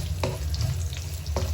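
Half a sliced onion fries slowly in hot oil for a Sri Lankan parpu dal curry: a steady low sizzle with a couple of stirring scrapes, close up and with no speech.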